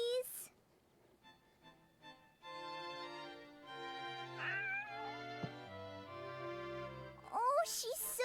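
A kitten meowing in the video game Shadow of Memories, several short high mews set among soft game music, with a character's voice in the background.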